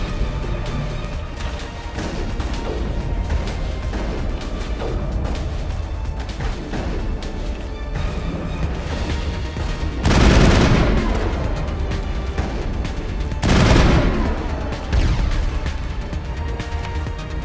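Steady crackle of gunfire in a Mass Effect firefight, with two loud bursts of blasts standing out above the continuous shooting, no talking over it.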